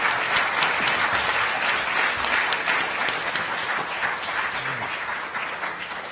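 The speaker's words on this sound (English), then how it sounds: "if everyone can give them a good round of applause to thank them for their time." A conference audience at a climate and energy policy event applauds a panel, with continuous, loud, even clapping that fades slightly toward the end.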